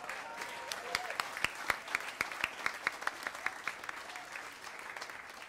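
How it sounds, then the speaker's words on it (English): Scattered, fairly soft applause from a jazz club audience at Jazz St. Louis greets the guitarist, with distinct individual claps popping out of a light wash of clapping. "give one round of applause for the great Lagelon on the guitar"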